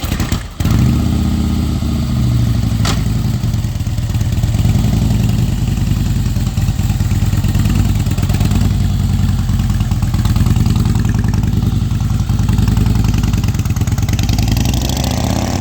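Custom-painted motorcycle, celebrated in Jaipur as one of India's most beautiful bikes, idling steadily with a loud, close, continuous low engine rumble and slight clatter after a brief start, no talk over it.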